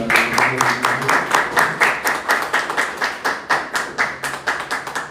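An audience applauds at a conference at the Pontificia Universidad Católica del Perú, with a smattering of distinct, rhythmic claps close by that stay fairly sparse throughout.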